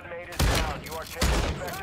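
Two sharp bursts of gunfire in DMZ, a video game, loud and close with ringing tails, the second following the first about a second later.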